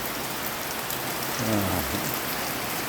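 Steady rain falls on a rural farm, a dense, constant hiss of drops close by, with a brief low rumble partway through and no talking.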